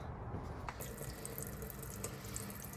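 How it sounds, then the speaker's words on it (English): Hot water runs steadily from an apartment faucet with a small drip, a constant soft hiss of flow with a few faint clicks and splashes, quiet and close. "Got the hot water running."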